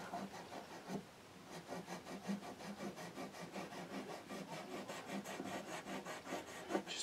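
Fret erasers rubbing corrosion off the frets of a Seagull S6 GT acoustic guitar, a close, steady scrubbing with repeated short strokes throughout and no voices.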